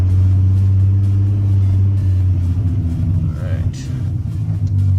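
A VR6 car engine fitted with higher-than-stock cams idles with a loud, steady low rumble, its deep harmonic drone holding for the whole stretch, with a brief rev flutter near the end.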